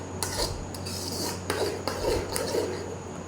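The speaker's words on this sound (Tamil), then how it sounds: "கொஞ்சம் கொஞ்சமாக நெய்யை விட்டு நம்ம என்ன பண்ணணும் அப்படின்னா கிளறிட்டே வரணும்" Thick banana halwa being stirred with ghee in a pan over low heat, a spoon rasping and scraping against the metal in steady, close strokes with no talk.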